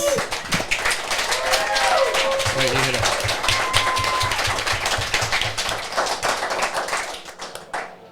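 A crowd claps in a dense, steady patter of applause while voices talk over it, tapering off at the end.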